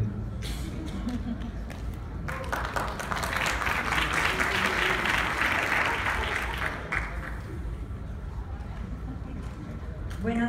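A conference audience at a Latin American and Caribbean drug policy gathering breaks into sustained applause that swells mid-way and then fades, with a voice speaking over parts of it.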